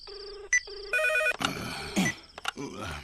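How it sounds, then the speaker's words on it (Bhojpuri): A telephone rings with a bright, repeating electronic ringtone in short tonal bursts for about the first second, then people talk loudly over a noisy room. "अरे कौन पपिया है टाइम में फोन करे रे? रिंग जाता।"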